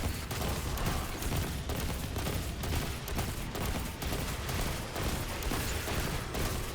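Rapid weapon fire from a Destiny 2 loadout, dense and continuous bursts of shots at steady loudness throughout, with no voices.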